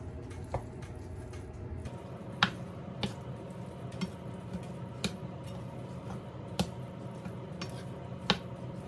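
Pasta and canned corn are tossed together in a bowl with a utensil, producing sparse, sharp clicks and taps at irregular intervals over a quiet background.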